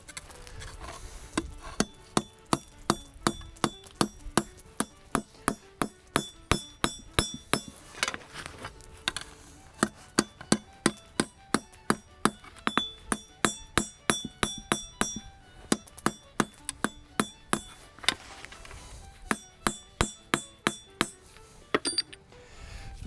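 A blacksmith hammers hot metal on an anvil during forging outdoors, sharp ringing blows in a steady rhythmic series with short pauses, close and clear, with no talk.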